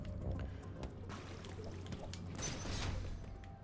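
Water draining out of a flooded room in the video game Metroid Dread, a steady rushing, pouring wash with a low mechanical hum underneath that swells toward the end.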